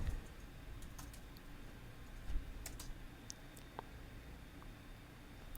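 Typing on a computer keyboard while searching for candles in a design app: a short quiet run of soft key taps, scattered irregular clicks over faint room hiss, no speech.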